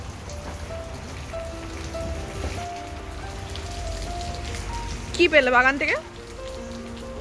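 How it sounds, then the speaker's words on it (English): Heavy cyclone rain pours steadily on surfaces during Cyclone Yaas, a dense continuous hiss with someone speaking briefly over it near the end. "It's raining so much, still my father is going to office."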